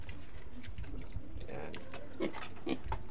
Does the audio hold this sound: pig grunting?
yes